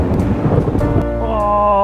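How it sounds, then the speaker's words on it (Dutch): Thunder rolls through a storm with rain, a loud rumbling crash up close that settles into a sustained droning tone at the end, with no voices. "En onweer en donder."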